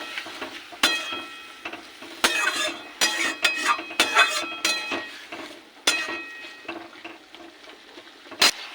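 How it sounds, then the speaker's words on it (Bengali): Vegetables for a Bengali stem chorchori are sautéed and stirred in a pan: a steady low sizzle broken by repeated sharp scrapes and clinks of the spoon against the metal, loud and close. "এবার ভালো করে কষাবো"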